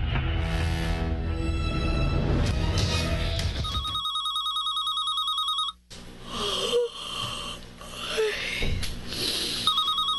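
A telephone rings with a repeating electronic trill that starts partway through, set against other noise and a short pause, with no voices heard.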